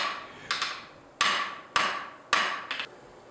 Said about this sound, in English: so I can move it with the hammer on the edge of the anvil and draw out a point, as you're seeing now.